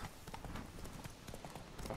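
Roach, Geralt's horse in The Witcher 3: Blood & Wine, walking with a quick, regular clip-clop of hooves, fairly quiet and steady, with no talk over it.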